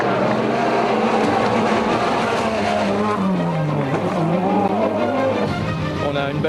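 Rally car in a 2004 JWRC event, Rallye France or Acropolis, racing a special stage: loud continuous engine roar with shifting, rising and falling revs and possible tire noise, heard from inside or close by.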